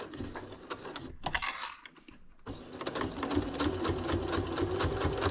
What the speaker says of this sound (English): Now we are going to top stitch all the way around.